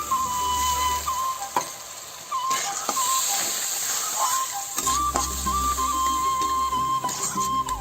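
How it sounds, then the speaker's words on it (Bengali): Spice paste sizzling in a pan with a little water added, a moderate steady hiss and crackle with stirring clinks and a brief surge of sizzle midway. "মশলাটা ভালো করে ভাজা হয়ে গেছে এখন এতে অল্প একটু জল দেবো মশলা কষানোর জন্য"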